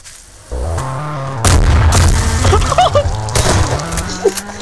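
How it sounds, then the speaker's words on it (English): Repeated explosions erupt in Garry's Mod, loud booming bursts and thuds stacked over a steady droning game background, with a few sharp cracks mixed in across the stretch. "Oh god! That was a lot of explosion."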